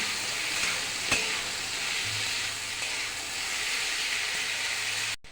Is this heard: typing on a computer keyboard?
no